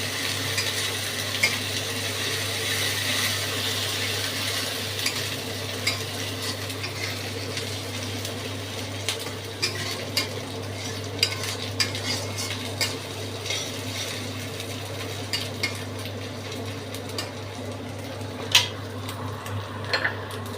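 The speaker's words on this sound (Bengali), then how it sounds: "আদা বাটাটা দিয়ে আবার কষাবো।" Ginger paste and softened onions are stir-fried in a pan for a spicy fish curry with drumsticks: a steady low sizzle runs throughout, dotted with light scrapes and taps of a spatula over a faint background hum.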